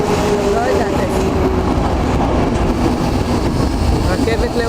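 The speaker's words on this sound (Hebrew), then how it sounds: "זה הרכבת של העיירה" Passenger train running on rails in Czechia, heard from on board with a steady rumbling roll and faint clickety-clack throughout, loud and close, with voices talking faintly in the background.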